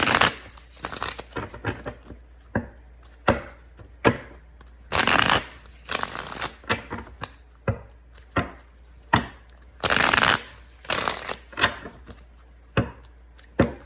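Cards being shuffled again and again, with quick riffling bursts and softer shuffles broken by short pauses, up close and with no talking.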